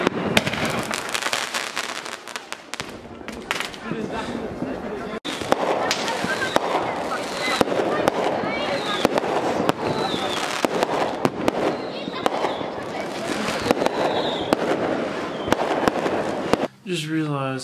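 Rapid bursts of fireworks crackle and bang continuously, loud and close, with people talking and calling out underneath.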